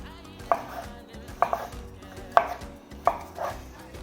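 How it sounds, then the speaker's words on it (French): A knife chops a ripe tomato into small dice on a board, four distinct cutting thuds spaced about a second apart, close and fairly quiet with no voices. "on va simplement le couper en tout petits dés"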